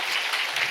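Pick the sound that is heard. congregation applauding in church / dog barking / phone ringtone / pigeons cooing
congregation applauding in church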